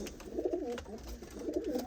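Pigeons kept by a pigeon fancier coo in low, throaty rolling phrases, close and fairly clear, repeating twice over two seconds with no talking.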